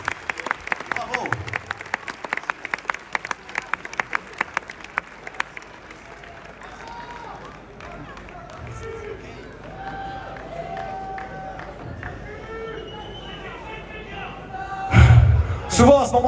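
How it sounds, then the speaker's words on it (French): Concert crowd at the Palais Nikaïa in Nice applauding a comedy metal band: dense clapping for about five seconds, then a quieter crowd murmur as someone talks over it, with a short loud burst near the end. "on peut l'applaudir infiniment!"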